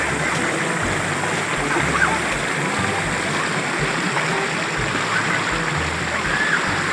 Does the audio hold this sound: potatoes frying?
no